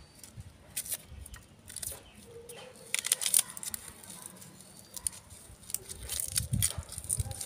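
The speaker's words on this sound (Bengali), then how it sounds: "এই পেঁয়াজের খোসাটা আমরা খোসাটা ছাড়িয়ে নেব" Dry onion skins are peeled by hand, making close, crinkly papery crackles and rustling patter in uneven bursts with no talk.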